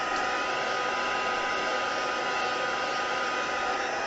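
A heat tool blows hot air to dry and flatten a paper craft project, producing a loud, steady, unbroken rushing hiss with no pauses.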